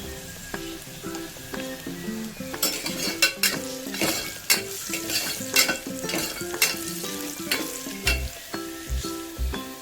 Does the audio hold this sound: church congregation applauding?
no